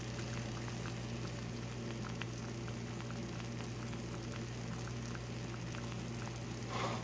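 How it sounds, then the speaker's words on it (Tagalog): Cooking oil heating in a pan for fried eggs, giving a steady, continuous bubbling sizzle with a low hum beneath, close and moderately quiet, with a brief brighter burst of crackle near the end. "Yan, kumukulo na ang mantika"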